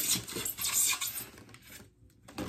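A spoon and bowls being handled while a subscription box is unpacked, with close clinks and rattles of cutlery against dishware in short bursts, a brief quiet gap, then another clatter.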